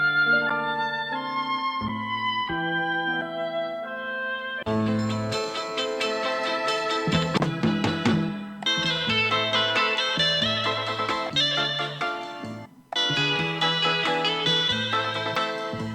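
Chopped sample triggered on a Roland P-6 sampler, a soft melodic phrase giving way to fuller, denser bursts with abrupt cuts between chops, loud and close with no talking.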